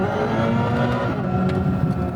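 Simulated engine sound from a 2024 Hyundai Ioniq 5 N electric car, a loud, close, sustained droning hum with a racing-engine character that holds steady throughout.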